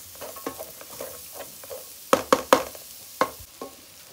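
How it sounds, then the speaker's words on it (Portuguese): Onion frying in a pan with a soft continuous sizzle, broken by a few sharp stirring clacks of a utensil against the pan in the middle of the clip, close and moderately loud with no talking. "Frita bem a cebola aí."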